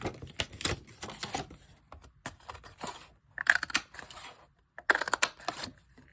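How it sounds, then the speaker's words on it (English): Scrap paper is torn by hand while making an Easter bunny treat box, giving a series of short crackling rips and rustles in irregular bursts with pauses between, close and alone. "Let me just tear off a piece here."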